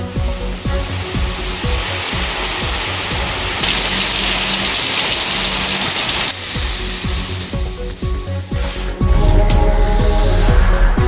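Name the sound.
heavy rain falling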